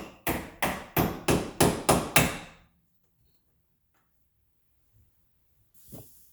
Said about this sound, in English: All you're going to do is just hammer this out and it just comes right out